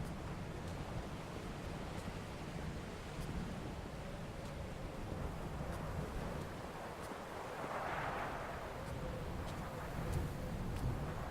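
Wind blowing through plants on a coast in the video game Dear Esther, a steady broadband rush with surf-like swells, moderately faint and unbroken, with no voices.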